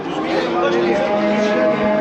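Cattle at a Turkish livestock market moo in a continuous low, drawn-out call, loud and close, over crowd murmur and background noise.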